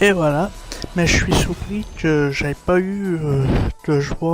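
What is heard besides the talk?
No everyday noises stand out.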